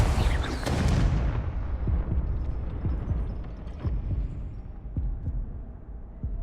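Spell blasts crackle and boom through a Hogwarts Legacy duel, a dense run of loud, rumbling impacts and bursts, one after another for several seconds with no pauses.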